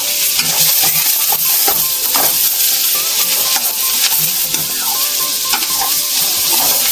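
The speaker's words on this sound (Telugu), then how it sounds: "ఆయిల్ వేసుకున్న తర్వాత అవి బ్రౌన్ కలర్లో వచ్చేలాగా కొంచెం వేయించుకుందాం." Ingredients fry in hot oil in a pan, a continuous close sizzle with light stirring clicks and utensil scrapes, no voices.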